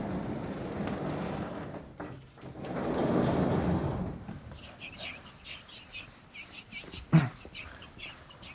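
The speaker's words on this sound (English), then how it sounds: "It's a lot of rain." Heavy rain pours down steadily during a thunderstorm, with rumbling thunder rolling in the background and a sharp crack near the end; the downpour is loud and continuous throughout.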